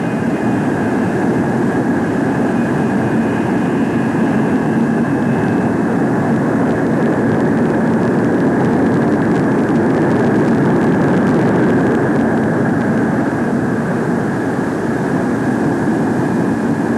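A USAF F-102 jet aircraft on approach and landing gives a steady, loud jet roar and whine, sustained and even throughout with no voices.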